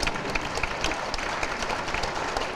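A church assembly audience applauds at the founding meeting of a Presbyterian denomination solidarity group, a steady, moderately quiet wash of many hands clapping with a few sharper individual claps standing out.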